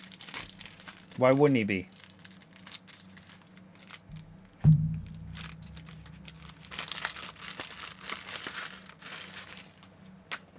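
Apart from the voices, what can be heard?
crinkling plastic packaging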